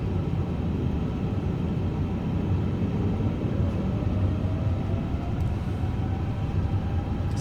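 A Cathay Pacific airliner roars through its takeoff run from Hong Kong, its engines a steady, heavy rumble with a dense broadband hiss, loud and unbroken throughout, no talk.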